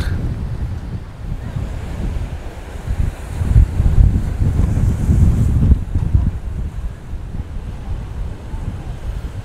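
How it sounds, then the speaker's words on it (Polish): Strong wind roars and buffets steadily against the microphone on a black-sand beach in Lanzarote, with Atlantic surf rumbling underneath; no voices. "Co za wiatr!"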